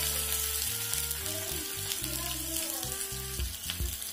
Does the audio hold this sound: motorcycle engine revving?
no